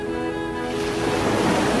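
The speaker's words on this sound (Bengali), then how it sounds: "ঢেউয়ের গর্জন" Ocean surf at Cox's Bazar beach rolls in with a loud, continuous roar that swells toward the end, heard close and alone with no voices.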